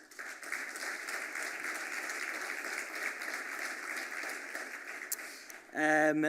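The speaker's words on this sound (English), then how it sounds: "please give them a round of applause" Audience applause for teams at the 13th annual TIA Entrepreneur Showcase, a steady, fairly soft wash of clapping that holds for several seconds before a brief musical tone near the end.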